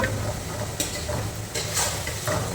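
Oil sizzling in a pan for frying seela fish, a loud continuous close sizzle broken by brief stirring or scraping bursts.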